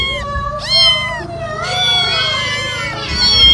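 Children's voices imitate a cat in a children's action rhyme, sliding meows repeated in a sing-song chant, loud and close.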